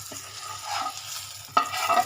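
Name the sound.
stirring fried pointed gourd into rohu fish curry in pan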